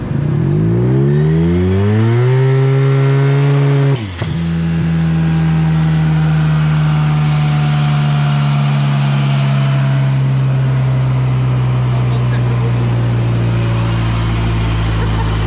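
A turbocharged Yamaha TMAX scooter runs on a dyno, its engine revving up hard, dipping briefly, then holding a loud, sustained high-RPM drone with rising whine and rushing noise.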